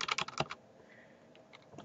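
Quick clattering keystrokes on a computer keyboard come in a dense burst and then thin out to a few scattered taps, close and fairly quiet, with no voices.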